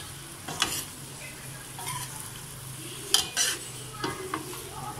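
Sautéed bitter gourd with egg cooks in a pan, with soft sizzling under scattered scrapes and clinks of a utensil stirring against the metal, fairly close and quiet.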